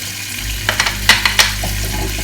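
Butter and sugar being stirred in a pan for white chocolate fudge, a few short scraping strokes over a steady low sizzle, close and fairly loud with no talking.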